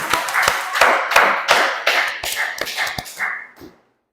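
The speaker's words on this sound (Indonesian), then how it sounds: "Kasih aplaus yang meriah dulu" An audience at an Islamic cultural history class presentation in Indonesia gives a burst of hand clapping, many pairs of hands together in a dense, lively patter that holds steady and then trails off to silence.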